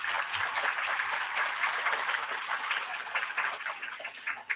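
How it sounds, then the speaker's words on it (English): A crowd of students and families at a first-grade school awards assembly applauds, a steady, even wash of clapping that stays loud throughout, with no voices standing out. "So everybody gets a big round of applause for that."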